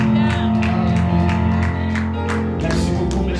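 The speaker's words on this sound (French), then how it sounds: "Est-ce que tu peux donner à ton Dieu des acclamations dignes qu'il mérite" A church congregation cheers and acclaims God in worship, with shouts, whoops and clapping from a crowd over a steady sustained background tone, loud and close throughout.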